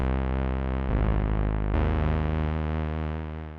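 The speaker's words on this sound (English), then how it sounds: "Really heavy, gritty bass." Vapor Keys, a 90s-style synth, plays a heavy, gritty low bass preset: a thick, distorted sustained tone that shifts pitch twice, buzzing loudly and steadily for a few seconds before slowly fading, with no voices.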